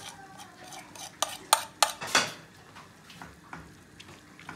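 A spoon stirs mozzarella and cheese slices together in a pot, with a series of close scraping clanks against the metal, several loud strikes clustered in the middle and softer scrapes on either side.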